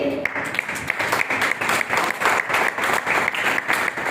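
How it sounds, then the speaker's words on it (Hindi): Audience clapping at a Hindi poetry gathering as a young man is honoured, a loud, rhythmic burst of many hands with a pulsing, near-unison beat that holds steady throughout. "आपकी तालियों से लगना चाहिए"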